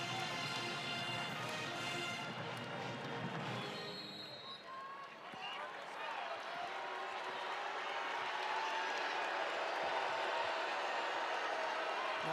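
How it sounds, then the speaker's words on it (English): At a Louisville vs. Notre Dame women's college basketball game, the arena crowd cheers with a broad, swelling roar that builds through the second half, with shoe taps and court noise under commentary voices early on. "Now cheers from the crowd with Louisville in possession"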